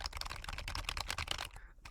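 Loose keys on a computer keyboard clack in a rapid, dense run of typing, close and fairly quiet, trailing off at the end.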